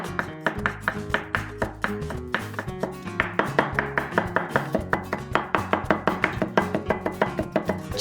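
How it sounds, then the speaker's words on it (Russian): Four large garlic cloves are chopped with a knife on a cutting board in a fast, steady run of sharp, close knocks that continues throughout, with no talking. "Измельчим чеснок."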